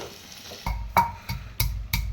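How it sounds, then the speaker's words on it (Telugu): A spoon scrapes through fried onions and potatoes in a pan, making five sharp, evenly spaced stirring strokes over a faint background sizzle. "ఇప్పుడు ఇందులో ఆలుగడ్డలు వేసేసుకుందాం. ఆలుగడ్డలు ఉల్లిపాయలు మొత్తం కలిసేటట్టు"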